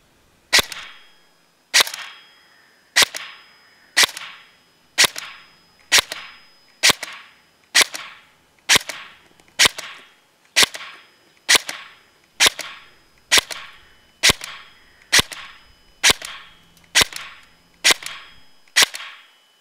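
An HK416C VFC airsoft replica fires 0.20 g BBs through a chronograph in sharp, isolated semi-automatic cracks, about eighteen shots at an even pace of roughly one every second, each loud, close and quickly decaying.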